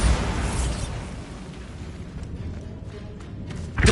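A Bombarda blast spell in the video game Hogwarts Legacy goes off as a broad, rumbling explosion that starts loud and trails into a lingering low roar, with a fresh burst at the very end.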